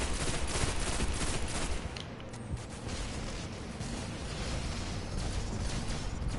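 Gunfire in a video game as a dense, continuous rattle of shots, loud and unbroken except for a brief dip partway through.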